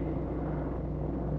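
A helicopter flies low over mountains, giving a steady, loud rotor-and-engine drone with a constant low hum and no voices.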